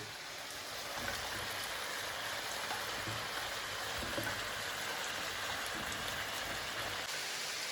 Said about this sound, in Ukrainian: додаємо морку. Треба пропасірувати морку.